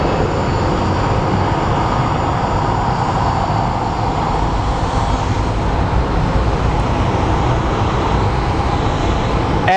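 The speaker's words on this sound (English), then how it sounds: "And we have a taxiing 737." A Boeing 737 airliner taxis at Phoenix Sky Harbor airport, making a steady, loud jet rumble and whine that carries unbroken for several seconds without anyone speaking.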